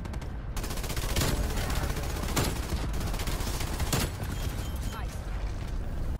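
Gunfire in Call of Duty Cold War comes as bursts of automatic shots, loud and close, with sharp cracks around one, two and four seconds over a dense rattling bed, and a voice is talking underneath.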